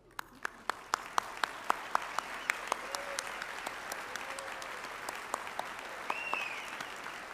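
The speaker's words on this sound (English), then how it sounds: "would you rise for a round of applause?" Audience applause fills a commencement ceremony for a college of business, industry, life science and agriculture, a steady wash of many hands clapping with sharp individual claps standing out, sustained throughout at moderate distance.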